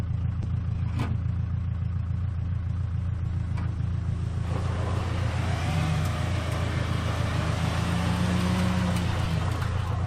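A Ford Ranger pickup strains to tow a 15,000 lb Case backhoe on a chain across level ground, its engine giving a steady, loud rumble that builds and revs throughout with no talk.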